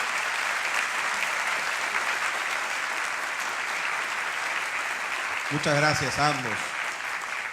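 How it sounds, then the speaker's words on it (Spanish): Sustained audience applause at a public management day event in Spain's public sector, steady and full across the room, with a voice briefly thanking two people near the end. "¿Puedo pedirles un aplauso para Enrique Cortés?"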